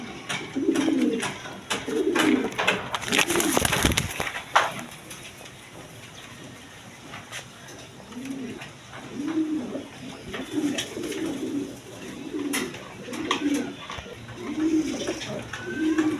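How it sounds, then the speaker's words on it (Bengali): Denis pigeons in a pen give soft, repeated throaty coos in a steady rhythm, close and fairly quiet, with a brief burst of wing flapping partway through. "এখানে আরেক পেয়ার ডেনিস কবুতর আছে দেখেন"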